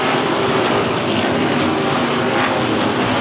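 Dwarf race cars roar off the green flag at Kennedale Speedway, a dense, steady engine drone from the pack filling the air at constant loudness with no pauses.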